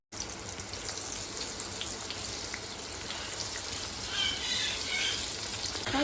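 Steady, close sizzling of marinated prawns frying in hot oil, a continuous crackling hiss with no talking.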